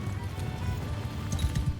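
Horse hooves drumming at a gallop across open ground in Mount & Blade II Bannerlord, a steady low rhythmic clatter under busy battle noise and clashing sounds.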